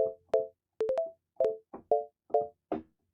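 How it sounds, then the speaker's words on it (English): A string of short, clean synthesizer sine wave tones plays a quick reggaeton pluck melodic pattern, each note crisp and evenly loud with brief gaps between. "That's a sine wave."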